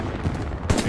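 Close, loud gunfire in the Hell Let Loose World War II shooter set at Stalingrad, a quick rattle of shots ending in one sharp louder crack near the end.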